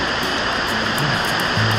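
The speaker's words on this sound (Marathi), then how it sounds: "वॉटरफॉलचं पूर्ण पाणी स्टेप्सवरनं खाली उतरतं आहे" A waterfall runs down stepped rock and makes a steady, loud rushing roar. A faint low hum sits underneath it.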